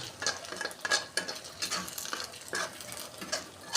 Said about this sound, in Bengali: যতক্ষণ না ঘন হয়ে আসছে, শুকিয়ে যাচ্ছে, ততক্ষণ আমি নাড়তে থাকবো।